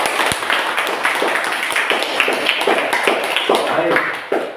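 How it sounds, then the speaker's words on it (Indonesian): Audience clapping at a school presentation, a fairly loud, dense patter of hands that holds steady, with some voices mixed in before it tapers at the end. "Tepuk tangan untuk mereka."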